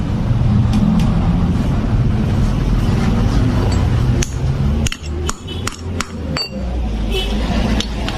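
A hammer strikes an impact screwdriver to loosen a Honda Blade motorcycle starter screw: several sharp metallic clinks land in an irregular burst, close and loud over a steady background hum, with talk beforehand.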